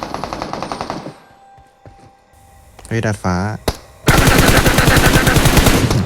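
Rapid automatic gunfire from the video game PUBG Mobile rattles in loud bursts, first at the start and then in a dense, continuous spray near the end, with a brief shout of speech in between.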